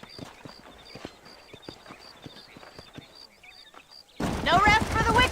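Horse hooves clip-clop in a steady rhythmic gait in the Western video game Red Dead Redemption, moderately close with faint chirping in the background, and a voice breaks in over the end.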